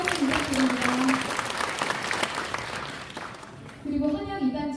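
An audience applauds at a residential redevelopment briefing meeting, with a steady burst of clapping in the room, while a voice speaks before and after it.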